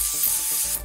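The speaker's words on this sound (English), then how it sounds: "I am now spraying you with silly string." Silly string sprays from an aerosol can in a continuous loud hiss close to the microphone, lasting just under a second with slight pulsing.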